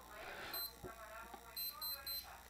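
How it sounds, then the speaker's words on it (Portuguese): An X Games XMPPD635 digital wristwatch sounds its countdown timer alarm: short, high electronic beeps in quick repeated bursts, heard close by under a person talking. "O alarme do relógio vai ativar."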